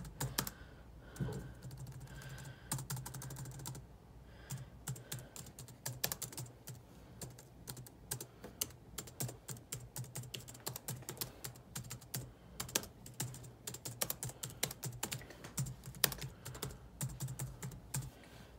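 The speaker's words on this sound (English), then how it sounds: "As you can tell, if I type on this, it actually feels real good." A 2009 MacBook keyboard is typed on in quiet, irregular bursts of soft, close key clicks with short pauses, and no talking.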